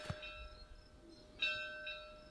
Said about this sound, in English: that bell means it's vegan breakfast time